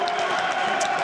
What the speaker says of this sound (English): They've been cheering for everyone, especially for Fnatic